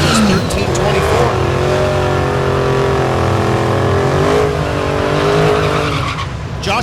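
Drag cars at a dragstrip race meet, a Dodge Charger and a Ford Mustang, roar loudly and steadily under continuous announcer commentary, engine tone rising and sweeping through the run.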